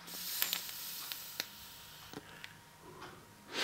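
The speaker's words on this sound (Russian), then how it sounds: "Вот мы слышим, шипит она." An electronic cigarette gives a soft, steady hiss through the clip, broken by a few sharp ticks and clicks, ending in a louder breathy burst of hissing.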